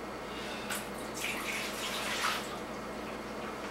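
Water poured into a blue pot: a quiet, close trickle and splash in a few short bursts over a steady low background.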